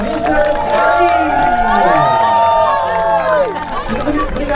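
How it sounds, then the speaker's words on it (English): Wedding guests cheer and shout for the newlyweds, with lively crowd voices and whoops rising and falling throughout; a busy, close reception crowd with little distinct clapping audible. "let's give a big round of applause to our newlyweds, Mrs. Sandy and Mrs. Ellie."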